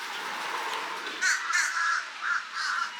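Several crows cawing outside near a lagoon-view resort balcony, with a run of harsh, repeated calls in quick succession over a soft, steady background hiss.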